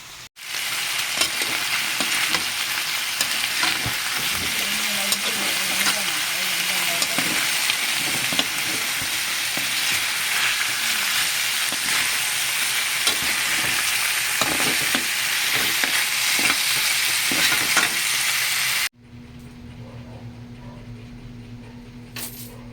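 Loud, steady sizzling of chicken pieces browning in a pan for tinola, with occasional stirring scrapes, for about nineteen seconds before it drops to a quieter hum.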